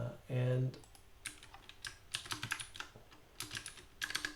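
Keys clatter on a computer keyboard while Java code is typed, coming in short uneven bursts of clicks after a brief low tone at the start, close and moderately quiet.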